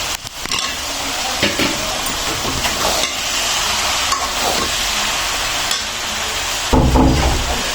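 Noodles fry with vegetables and eggs in a pan, a dense close sizzle broken by repeated clattering stirs and scrapes of a utensil, with a louder knock near the end.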